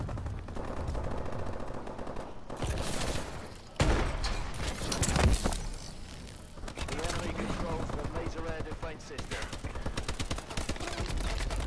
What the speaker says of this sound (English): Sentry gun trying to shoot me.